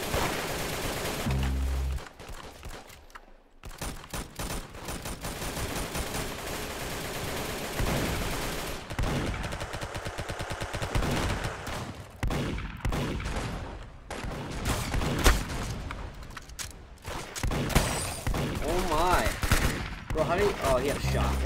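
Shotgun blasts ring out in a video game firefight, repeated heavy reports over continuous game noise and music, with players talking in between.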